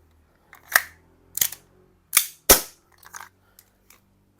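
Double Bell M1911 Mini ultracompact gas BB pistol firing four sharp, close snapping shots at uneven intervals, each with a brief metallic slide clack, followed by faint small clicks in quiet surroundings.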